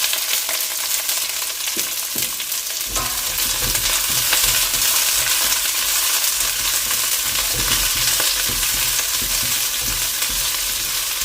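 White onion sizzles steadily in a hot pan for chopsuey, with a loud continuous frying hiss broken by the scrape and clatter of a utensil stirring throughout.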